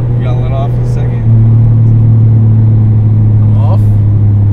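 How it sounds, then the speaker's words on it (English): A modified 2002 Chevrolet Impala with a two-mode exhaust idles in its loud setting, a deep steady rumble that grows heavier partway through while people talk over it nearby. "you have a two-mode exhaust, right? Loud and quiet. So this is quiet? Yep. All right, so throw it in loud."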